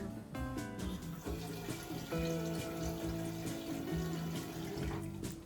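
A household tap runs steadily just after the water supply is restored, a continuous splashing flow with a few clinks and knocks over it, close and fairly loud with no talking.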